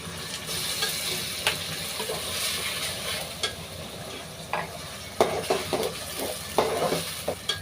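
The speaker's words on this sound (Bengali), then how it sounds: "এবারে আমি যে পেঁয়াজ রসুনটা ব্লেন্ডারে ব্লেন্ড করে রেখেছিলাম সেই ব্লেন্ড করা পেঁয়াজ রসুনগুলো দিয়ে দিলাম।" Blended onion and garlic paste sizzles in a hot pan while a spoon stirs it, with steady frying hiss broken by sharp scraping clicks against the pan, close and without talk.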